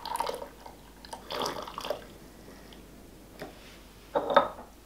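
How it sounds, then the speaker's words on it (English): Water poured out of a ROK manual espresso maker, a few short splashing and trickling bursts with light clinks of metal parts between them, close and fairly quiet. "Let's get rid of some of this water."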